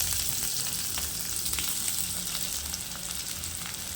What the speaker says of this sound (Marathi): तेल गरम झाल्यानंतर बारीक चिरलेला कांदा यामध्ये टाकणार आहे।